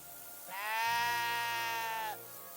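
A single sheep in Kingdom Come: Deliverance II lets out one long, wavering bleat, close and clear, over a quiet ambient backdrop.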